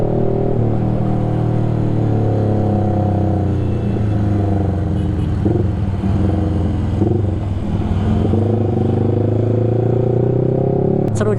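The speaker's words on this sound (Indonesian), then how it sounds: "Kalau gua de-accelerate tuh suaranya ngeblar ya." Yamaha R15 V3 motorcycle with a bored-up engine, off throttle and decelerating on a road at night: a steady loud engine drone with shifting harmonic bands and a rough burbling note, alongside traffic noise.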